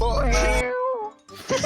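A person imitates a cat's meow in a rising, drawn-out vocal wail, close and loud, followed by a short pause and then a burst of talking.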